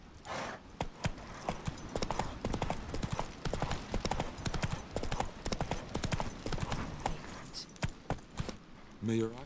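Roach, the horse in The Witcher 3, gallops in quick, steady clip-clop hoofbeats that stay close and loud throughout, with jangling tack and game sound effects layered over them.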